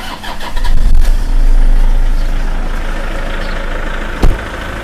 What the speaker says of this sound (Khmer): បាទឥឡូវខ្ញុំបញ្ឆេះបងប្អូនស្ដាប់សំឡេងតិចទៅ